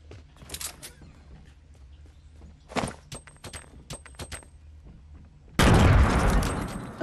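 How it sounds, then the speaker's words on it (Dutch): Fortnite Battle Royale gameplay: scattered gunshot cracks and thuds lead into a loud, sustained grenade blast near the end, a broad roaring burst that lingers to the final second. "Dat is wel echt een mooie granaat gooi."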